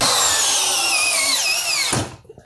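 A 36-volt Hikoki cordless drill driver whines at high speed with a steady rising-and-falling motor tone, close and loud, then spins down and stops near the end.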